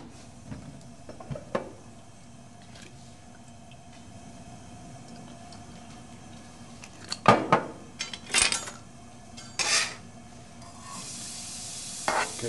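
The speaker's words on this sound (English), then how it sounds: "We're going to saute it in extra virgin olive oil until it's translucent." Chopped yellow onion sautéing in extra virgin olive oil, a low steady sizzle broken by several louder scrapes and stirs of a utensil against the pan, with no talk.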